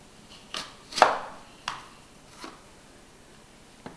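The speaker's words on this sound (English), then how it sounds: "Now we're going to core a few of these" Apples being cored for baked apples, a few short, crisp cutting and crunching strikes spaced irregularly, one louder than the rest, close and quiet, with no talk.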